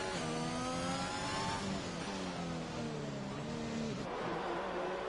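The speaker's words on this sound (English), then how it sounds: "Here comes a McLaren." F1 race cars in the F1 2021 game, a loud high-pitched engine whine with rising and falling pitch as a car passes by close, continuous throughout.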